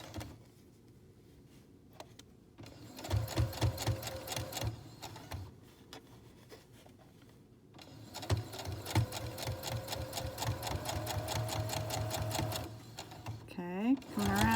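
A sewing machine stitches a curved seam on a fabric face mask in loud rhythmic bursts that stop and restart, with a person speaking between runs.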